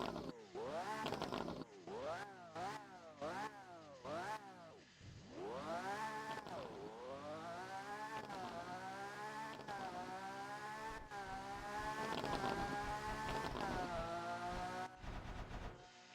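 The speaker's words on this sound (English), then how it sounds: "let's hear the revs" Lamborghini engine in a driving video game, revved repeatedly in sharp rising-and-falling bursts, then held at a sustained high-pitched wail, loud and close.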